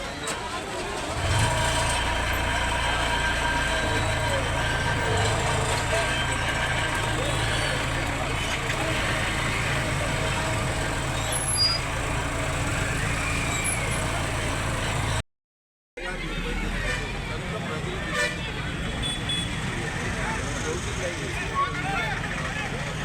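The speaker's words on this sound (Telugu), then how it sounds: "ట్రాఫిక్ జామ్ అయింది." Road traffic in a jam of trucks and buses, with a continuous close rumble of idling and slowly moving engines that breaks off briefly midway and then resumes, with voices talking over it.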